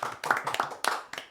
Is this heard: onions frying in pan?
no